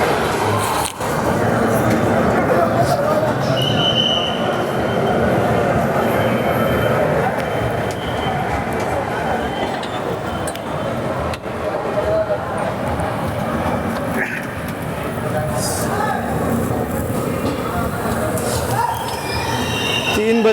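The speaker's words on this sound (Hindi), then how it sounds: "तीन 3:30 पर हमारी ट्रेन निकल रही है आगरा कैंट से" A train pulling out of Agra Cantt station rumbles and clatters close by, with wheels squealing and rattling wagons over a busy platform, people talking under the steady roar throughout.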